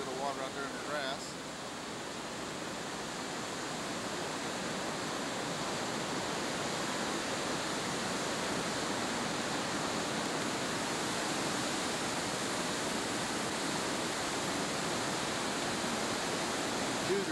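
Floodwater roars through the channel below a dam during a 1996 flood at Mill Creek, with diffuser chambers churning it up. The rush is steady and loud and fills the whole clip without a break.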